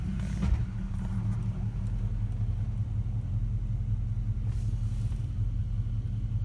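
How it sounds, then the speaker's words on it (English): Oldsmobile Cutlass V8 idling after rework of its Rochester 2GC two-barrel carburetor, a steady low rumble heard close and continuous with no revving, running evenly throughout. "Okay, it's idling much better."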